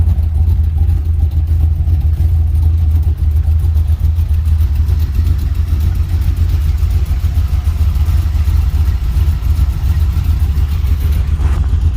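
A car engine, warmed up to temperature, idles steadily with a deep, loud exhaust rumble that holds constant throughout, with no voices.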